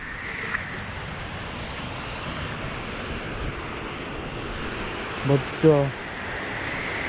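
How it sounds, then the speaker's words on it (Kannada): A waterfall in the Sirsi–Siddapur area pours with a steady, broad rushing roar, and a voice speaks briefly near the end. "ನೀರು ಬೀಳ್ತಾ ಇದೆ ಕಣ್ರಪ್ಪ."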